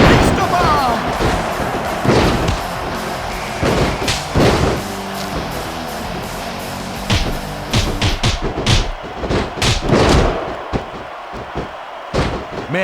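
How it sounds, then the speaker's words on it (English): Heavy body slams and thuds in the WWE SmackDown vs Raw 2006 wrestling video game, a series of loud impacts, some clustered rapidly, over crowd noise and commentary voices. "What a Batista bomb!"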